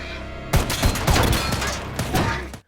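Gunfire erupts in an action film scene about hunting a trafficking mafia, a rapid volley of loud, close shots and heavy impacts that run for about two seconds before cutting to silence.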